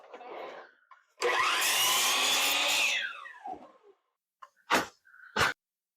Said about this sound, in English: I'm going to just go to the chop saw and I'll cut this off so it's square